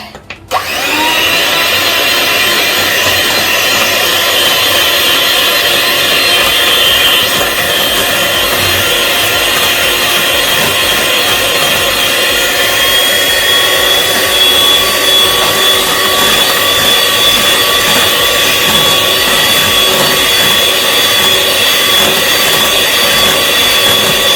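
An electric hand mixer whirs steadily through apple batter, a loud, continuous motor whine with high tones that holds unbroken for the whole stretch after a brief start.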